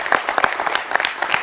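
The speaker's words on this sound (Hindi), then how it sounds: "ये राशिद साहब के लिए तालियां हैं।" Brief studio applause welcoming a journalist guest on a Madhya Pradesh election opinion poll broadcast, a short, steady patter of clapping from a small group, close and fairly loud.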